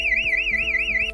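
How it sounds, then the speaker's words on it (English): A smart home security system's alarm siren wails in a fast, rising and falling electronic tone, loud, close and continuous, with no voices. "the siren at nearly 100 decibels is extremely loud"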